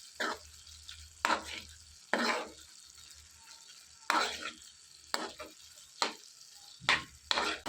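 Minced mutton keema with mutton masala and garam masala is stirred and fried in a pan, with repeated scraping stirs over a steady low sizzle and no talk.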